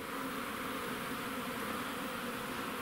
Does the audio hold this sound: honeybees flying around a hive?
yes